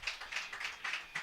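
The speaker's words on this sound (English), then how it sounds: "round of applause from the home crowd as he comes to the dugout" A home crowd at a college baseball game applauds a pitcher leaving the mound for the dugout, with several quick bursts of clapping heard faintly and at a distance.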